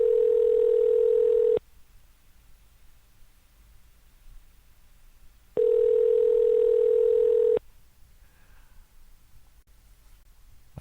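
Telephone dial tone after a call drops on a live broadcast: two loud steady beeps about two seconds each, separated by a few seconds of faint line hiss.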